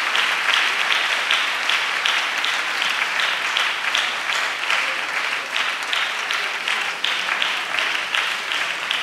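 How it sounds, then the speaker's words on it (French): A church congregation applauds steadily as missionaries come up, a dense, loud, continuous clapping from a large crowd that holds without a break. "Acclamons le Seigneur jusqu'à ce qu'il finisse de monter."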